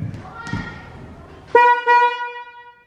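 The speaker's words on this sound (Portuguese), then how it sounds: "A mamãe tá lá no carro e ela tá só buzinando," A few muffled thumps, then a loud car horn blares close by in two bursts, the second one held a little longer.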